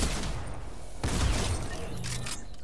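Video game gunfire: a sustained crackling barrage with a sharp loud shot near the one-second mark, followed by continued rattling fire and distant impacts.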